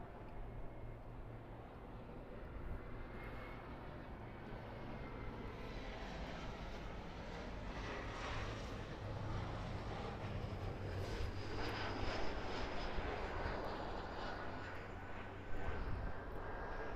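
Jet airliner engine roar at Los Angeles International Airport, a steady broad rumble that swells slightly as the plane passes, continuous and fairly loud throughout with no talk.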